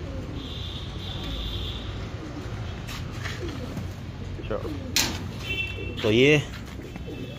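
Soft pigeon cooing in the background under someone talking, with brief rustling and flutter sounds near the end.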